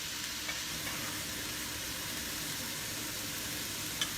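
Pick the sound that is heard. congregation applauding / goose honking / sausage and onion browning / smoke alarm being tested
sausage and onion browning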